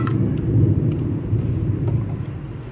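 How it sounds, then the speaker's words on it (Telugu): Thunder during heavy rain: a low, rolling rumble that carries on steadily for the whole moment, with a soft wash of rain hiss over it. "మీకు వినపడుతున్నాయా ఉరుముల సౌండ్లు?"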